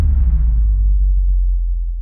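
A deep, booming bass drop from a metal recording hits loud and then decays over about two seconds into a low sustained rumble.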